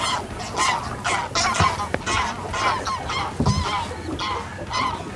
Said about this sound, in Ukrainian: Дикі гуси і не хочуть улітати.